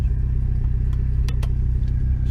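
A Mitsubishi Evo X GSR with a stick shift pulling away at night, its engine a steady, close low rumble with a few faint clicks and ticks above it.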